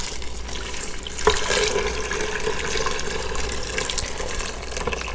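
Neck bone broth, about eight cups, pours steadily into an Instant Pot as a continuous liquid splash and trickle, with a small bump partway through, no talking.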